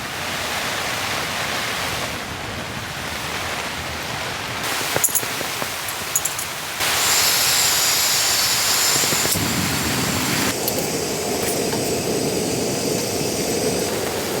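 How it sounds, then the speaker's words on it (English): Heavy rain pours onto a tent during a severe storm while someone camps alone, a loud dense roaring hiss that shifts in intensity as gusts drive the downpour harder against the fabric. "I'm just gonna lie back, chill out, listen to the rain for a bit"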